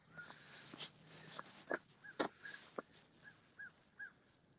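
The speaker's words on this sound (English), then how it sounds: "The crows are announcing the new day today, announcing the dawn." Crows caw several times at a distance at dawn, short harsh calls spaced irregularly over quiet, faint background sound.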